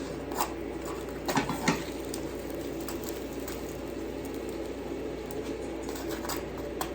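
A chicken fajita quesadilla crisps in a hot pan with cheese melting, giving a steady, even sizzle throughout and a few faint clinks of a utensil near the start.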